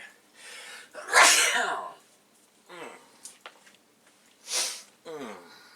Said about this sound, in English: sometimes the dust in these old computers can make me sneeze